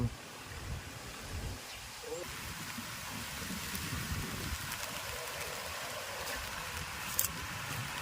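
Steady rain hiss over a rice paddy fills the whole stretch, with a low rumble underneath and a brief sharp clink near the end.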